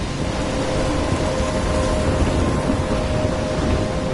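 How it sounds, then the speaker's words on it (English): A thunderstorm in the video game Life Is Strange, with steady heavy rain hissing and low thunder rumbling continuously, loud and close, with no voices. "I'm trapped in a storm?"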